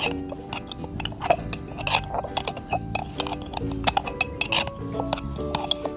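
A spoon stirs a mixture of coffee powder, tea powder and wood ash in a container, giving repeated light clinks and scraping ticks in an irregular rhythm, close and moderately loud, with no talking.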